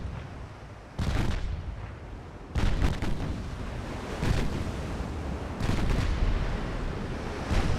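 Naval guns firing in the warship game Ultimate Admiral Dreadnoughts: several heavy booming salvos land at intervals over a steady rolling ocean-and-wind backdrop, loud and close with no voices.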